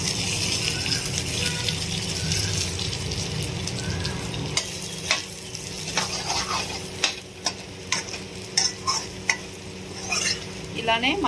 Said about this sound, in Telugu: ఇలానే మసాలాని ఒక 10 మినిట్స్ వరకు వేయించుకోవాలి